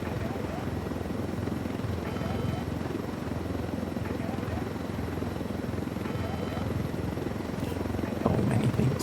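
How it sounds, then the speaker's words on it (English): Helicopter in the video game Ghost Recon Wildlands, a steady close rotor and engine drone running throughout with a slight rise near the end, under people talking. "Let's take this heli, the other heli."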